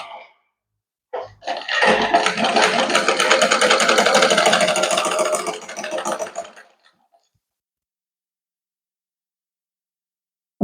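Close, loud sewing machine stitching a blouse neckline in one continuous run of about five seconds, then stopping into silence, with no talk.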